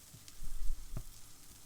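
Aloo tikki potato patties fry in a pan with a soft, close hiss of sizzling oil, broken by a few brief clattering bumps as they are handled.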